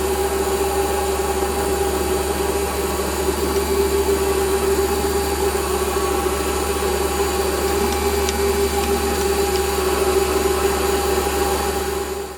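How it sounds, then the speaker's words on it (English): Centre drilling both ends of steel power feed parts on a machine, a steady loud mechanical hum with constant tonal whine holding unchanged throughout, no talking. "basically centre drill both ends of all four"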